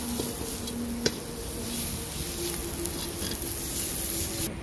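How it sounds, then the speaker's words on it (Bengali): Ground Kashmiri chili and turmeric are stirred in a frying pan, making a soft continuous sizzle with light scraping and occasional ticks of the spoon, steady and close, with no talking. "ভালো করে নেড়ে নেব"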